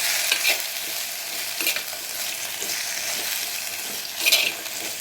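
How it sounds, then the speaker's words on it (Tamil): Bitter gourd sautés in oil over a medium flame for pitlai, a constant close hiss of frying broken by a few louder clatters and swells as the pieces are stirred, with no talking. "ஒரு 1 நிமிஷம் நல்லா வதக்குங்க அந்த எண்ணெயில்."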